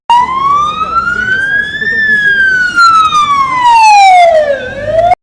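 A loud wailing ambulance siren close by during an emergency response drill, its pitch rising slowly then falling in a long sweep before climbing again.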